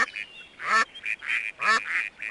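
Cartoonish duck quacks from a game-show trivia video game, a series of loud nasal honks in uneven bursts, close and clear with no talk.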